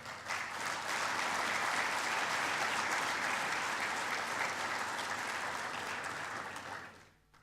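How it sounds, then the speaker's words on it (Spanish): Steady, full audience applause at an agricultural conference hall as speakers come up to the stage, sustained dense clapping for about seven seconds before fading out. "a quienes pido también un aplauso para ellos, por favor"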